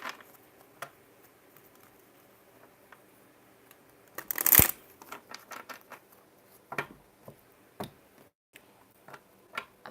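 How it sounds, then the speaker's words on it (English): Tarot cards being shuffled by hand, soft riffling and tapping with a louder burst of shuffling in the middle, then scattered light clicks, close and quiet with no talk. "so I'm going to shuffle the cards"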